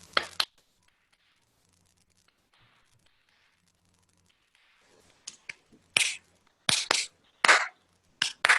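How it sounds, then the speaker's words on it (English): A small group of people clapping their hands at a storytelling gathering: after a long quiet stretch, sparse, sharp, close claps come in scattered bursts that grow a little denser toward the end. "Let's put our hands together and give a clap."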